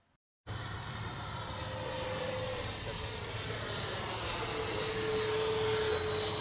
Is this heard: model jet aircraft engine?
yes